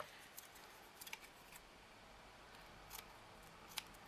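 Scissors trim paper from a magazine while making a miniature book, faint close snips scattered over quiet room tone, a few isolated cuts.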